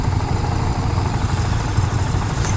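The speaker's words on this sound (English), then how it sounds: "The sound of a single is not that inspiring to me, at least not in this bike in particular." A 2015 KTM Duke 690 single-cylinder motorcycle engine runs steadily at idle with a deep, even low-end chug, loud and close, no voices present.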